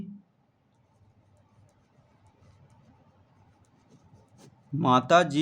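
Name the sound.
writing on paper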